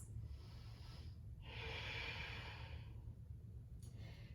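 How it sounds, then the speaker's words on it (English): A slow, steady breath drawn in and let out during a standing yoga balance, a soft airy rush swelling in the middle and fading, close and quiet with no talking. "3 centering breaths."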